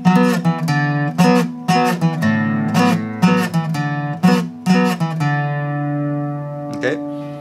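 Requinto guitar ornament played slowly, alternating the fourth string with the open fifth string and ending on D, heard as a steady sequence of bright plucked notes, then a long ringing tail and a faint brush near the end.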